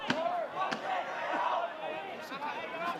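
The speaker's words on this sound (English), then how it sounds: "Crowd getting into this one as we tick towards red time in quarter number 3." A crowd at a TSL football match between Lauderdale and North Hobart in the third quarter roars and shouts in a continuous swell, with scattered individual yells and thumps, fairly near and filling the air.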